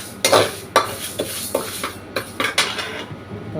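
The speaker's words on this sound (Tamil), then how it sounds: "கொஞ்சம் நல்லா வறுத்துடணும்" A spoon scrapes and clatters against a metal pan in irregular strokes, stirring dry-roasting lentils with brief scraping bursts, close and fairly loud.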